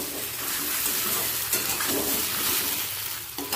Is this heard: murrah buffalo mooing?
no